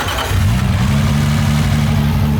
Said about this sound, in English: I reckon this will start right now off the key with no prime pump